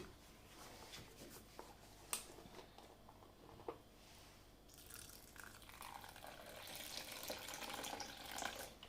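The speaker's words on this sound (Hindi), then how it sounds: "तो साथ इसके दूध डालूँगी।" Milk being poured into pancake batter gives a soft liquid trickle and splash that grows over the last few seconds, faint and close, with a few small clinks.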